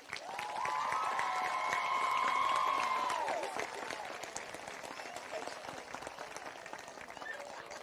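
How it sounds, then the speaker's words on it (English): An indoor sports audience gives a round of applause for the coaches, steady clapping from a crowd that continues for several seconds, with a loud whistle-like tone riding over it near the start. "one more round of applause for Coach Smith, Coach Kelly, and Miss Kynes"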